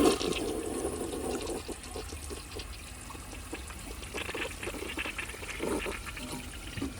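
1983 Gerber Mt Vernon toilet flushing, a steady close rush and gurgle of water that continues as the bowl drains and refills with trickling.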